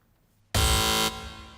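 A TV quiz show's answer buzzer blares once, loud and harsh, holding for about half a second before dropping away.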